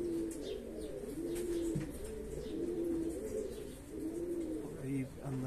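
Rock pigeons cooing in a loft of Spanish thief pigeons kept for sport, a steady low repeated coo in long phrases close by, with soft chirps near the end and a voice talking faintly.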